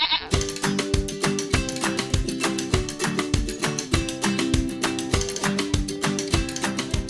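Goat bleating repeatedly in a village setting: a rapid, steady series of loud, close, wavering calls that continues without a break.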